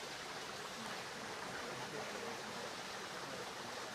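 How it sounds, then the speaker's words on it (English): A small waterfall flows steadily in a botanical garden at Jervis Bay, a continuous broadband rush of falling water heard close and alone with no voices. "Little bit of waterfall here."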